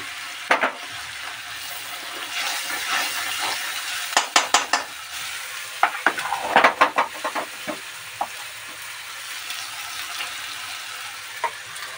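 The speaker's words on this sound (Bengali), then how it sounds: "চিকেনটা দিয়ে ভালোভাবে এভাবে কষে নিতে হবে" Marinated chicken added to spice paste cooking in oil in a pan for Kolkata chicken curry, a steady sizzle with intermittent clattering stirs and scrapes of a spoon against the pan, close and clear.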